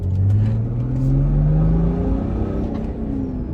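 A BMW X5 35d diesel engine revs up under acceleration with a deep, throaty drone, its pitch climbing steadily, heard loud and close from inside the SUV.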